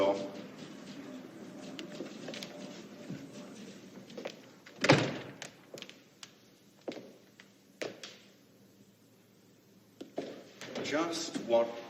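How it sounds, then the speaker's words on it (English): An office door shuts with a single loud thunk near the middle, after a meeting breaks up in an office scene from the 1987 film The Fourth Protocol. Voices and room noise continue before and after it. "Close the door."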